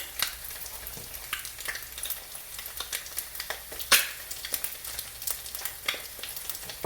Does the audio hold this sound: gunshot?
no